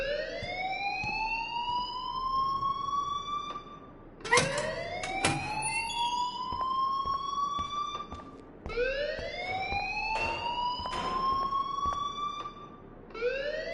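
A school alarm in the video game Life is Strange wails in rising, siren-like sweeps that repeat every few seconds, loud and continuous, with sharp bangs and clatters cutting in between the sweeps.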